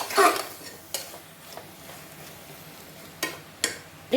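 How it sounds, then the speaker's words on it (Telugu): Potatoes coated in masala and salt frying in a pan, with a short burst of sizzling and stirring at the start, then a few sharp clinks of a spoon against the pan over a low, steady background. "ఒక స్పూను సాల్ట్ వేస్తాను బాగా వేపుకుందాం"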